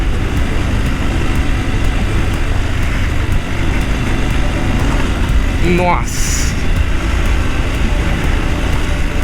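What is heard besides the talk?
off-road motorcycle riding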